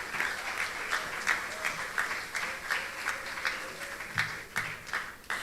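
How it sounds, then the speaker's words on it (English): Audience applause for a primary school choir at a graduation ceremony held in a resort hall: steady, fairly loud clapping from a sizeable crowd with some individual claps standing out, continuing alone throughout. "All the choir members, let's give them a round of applause."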